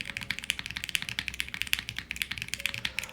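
Steady fast typing on a Choice 65 65% mechanical keyboard, close and fairly quiet, a dense run of crisp clacky keystrokes with no talking.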